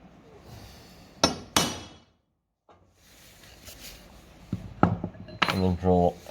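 Two sharp metallic hammer strikes on a center punch, close and loud, followed by a pause and then workshop handling noises with a few more clanks.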